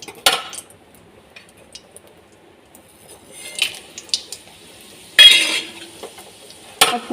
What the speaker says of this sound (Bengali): এই মাছ ভাজা তেলের মধ্যেই আমি ফোড়নটা দিয়ে দেবো।